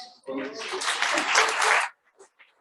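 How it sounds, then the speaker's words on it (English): An audience at a morning business event in Corona breaks into applause, a short, full burst of many hands clapping that stops abruptly, with faint voices after. "Give a round of applause."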